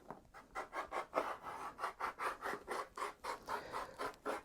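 Rotary cutter slicing through layered quilting fabric to trim the edge of a reversible table runner, a steady run of rhythmic rasping strokes, close and fairly quiet, with no talking.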